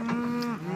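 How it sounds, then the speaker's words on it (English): A single cow moos in the cold outdoors, a loud, close, sustained low bellow lasting under a second that drops slightly in pitch at the end. "More cows coming up in here."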